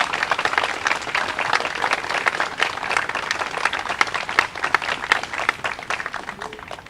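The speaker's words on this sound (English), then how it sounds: "please, a round of applause." Steady applause from a crowd gathered outdoors at a Memorial Day ceremony by a Civil War monument, dense clapping of moderate loudness that continues evenly throughout.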